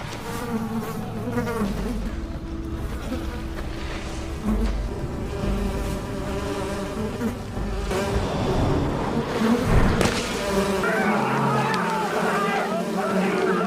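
A loud swarm of wasps buzzes continuously, with droning tones over busy, chaotic background noise.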